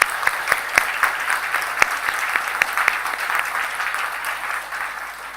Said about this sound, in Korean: 우리 모든 교육자들에게 감사와 격려의 박수를 같이 한번 보냈으면 좋겠습니다